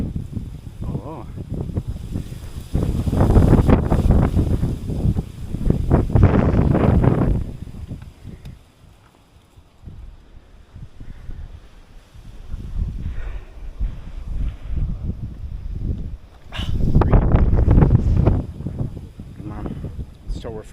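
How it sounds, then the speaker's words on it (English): Strong wind gusts buffet the microphone at a lighthouse on a Hokkaido coast, swelling into loud rumbling bursts and easing off between them, with a person talking briefly in between. "Oh, it's pretty windy up here."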